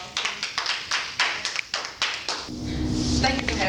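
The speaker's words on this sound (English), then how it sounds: "if you would give a round of applause and welcome Miss K Dog" Audience gathered to welcome a guest speaker, sharp claps starting in separate bursts and then merging into steady, fuller applause with a rumbling low end.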